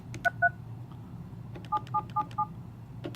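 Keypad tones from pressing keys on an SMT i5230 telephone: two short beeps, a pause, then four quick beeps in a row, clear and close over a faint background hum.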